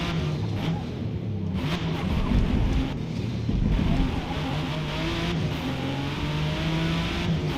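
A Ford GT40 in a racing video game, its engine droning and revving steadily with shifting pitch, loud and continuous, with a few brief bursts of noise.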